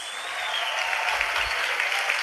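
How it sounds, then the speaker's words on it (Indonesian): Audience applause at a religious gathering, a dense steady clatter of many hands clapping for a couple of seconds with no talk over it. "Tepuk tangan buat Tutus."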